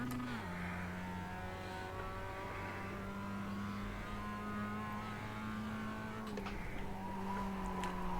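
A production race car in a SimLab simulator at Summit Point, its engine holding a steady mid-pitched drone with a slight shift in pitch as it slides through a corner, continuous and fairly loud.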